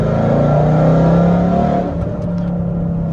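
A Ford Mustang engine revs hard under throttle, a loud steady low growl and harmonic hum that holds and then eases off slightly, close and with no talk over it.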